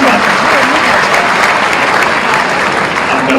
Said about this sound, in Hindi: ताली बजाओ सर के लिए, रिसर्च की बात है।